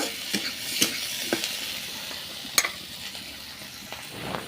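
Hard vegetables for a poppy-seed dish, including onion, spine gourd, pointed gourd and ivy gourd, frying in a pan. A soft, low sizzle runs throughout, broken by a few sharp spatula clicks and scrapes.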